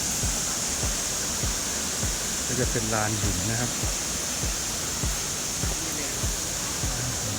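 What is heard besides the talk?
waterfall at Tat Ton, Chaiyaphum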